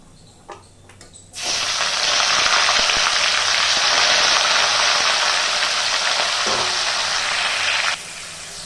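Chicken pieces with whole black pepper, bay leaf and dried chilli hit a hot pan for a korma, bursting into a loud, steady sizzle that holds for several seconds before dropping off.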